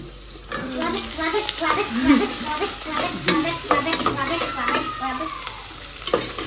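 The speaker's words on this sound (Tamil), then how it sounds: "இது வந்து நம்ம நல்லா வதக்கி விடலாமா" Onions sizzling and being stirred in a hot pan, a steady frying crackle with scraping strokes of a spoon, close up.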